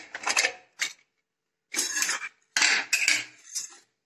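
Metal clanks and scrapes as the lid of a cooled pressure cooker holding chickpea curry with potatoes is opened, in several short, close clattering bursts separated by brief silences.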